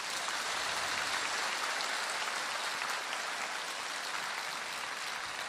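A roomful of people claps together at a Buddhist Dharma gathering in a Los Angeles hall, producing a dense, even wash of hand claps that holds steady without pause and with no voices on top.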